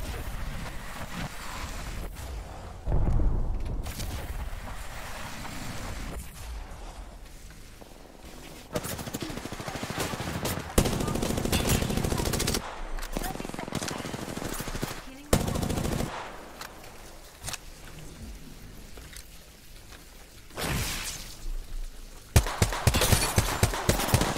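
Apex Legends gunfire: rapid automatic bursts and sharp single shots in uneven clusters, loud and near, broken by quieter gaps.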